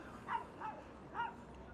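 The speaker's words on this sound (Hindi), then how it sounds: "ये छोटे वाला इसको भौंक के जा रहा है" A small dog barks at a much bigger dog, giving several short, faint yips spaced apart with quiet gaps between them.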